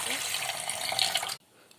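Water runs steadily from a tap into a cooking pot for sago, a close continuous splashing rush that stops abruptly near the end.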